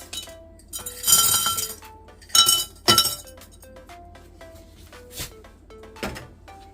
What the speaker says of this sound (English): So we're going to add some ice.